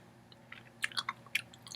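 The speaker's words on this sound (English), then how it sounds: "So it takes a while for you to chew." Close, quiet chewing of a hard, honey-flavored gummy candy with a sour coating, a handful of sticky crunchy bites clustered in the middle of a short stretch.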